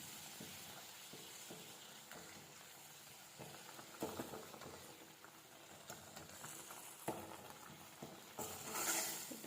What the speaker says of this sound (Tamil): மசாலா வந்து பச்சை வசனை போக நல்லா கொதிக்க விட்டுருங்க